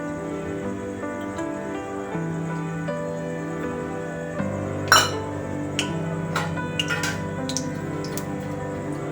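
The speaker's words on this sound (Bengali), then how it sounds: "দেখুন কড়া বসিয়েছি গ্যাসে, দেবো তেল।" A metal wok set on a gas stove gives a sharp clank midway, then light clinks and faint drips as oil is added for a mango pickle, all over a low steady background hum.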